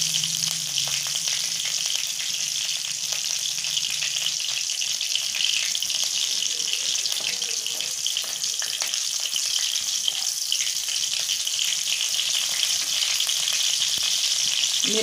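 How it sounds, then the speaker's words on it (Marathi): Green chillies roasting in a kadhai with grated sweet potato, a loud, even close-up sizzle that hisses steadily for the whole stretch with small crackles and no speech. "मिरच्या थोड्याशा भाजून घ्यायच्या."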